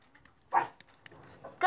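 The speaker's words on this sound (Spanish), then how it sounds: "Perdón por el ladrido de mi perrita" A small female dog gives one sharp, close bark in a quiet indoor room, then a few faint yips and whimpers follow, with another bark starting at the very end.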